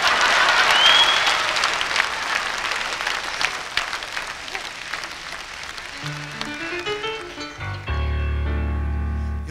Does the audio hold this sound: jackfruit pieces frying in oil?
no